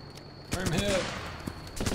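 Gunfire in the Running with Rifles video game: a loud, close burst of several rapid shots with echoing decay, followed by a couple of fainter shots.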